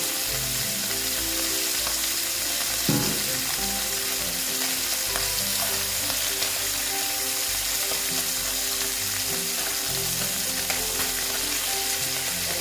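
Bata fish sizzling in hot oil in a pan for a Bengali curry with potato and brinjal, a continuous close crackle and hiss holding steady throughout with faint utensil clinks.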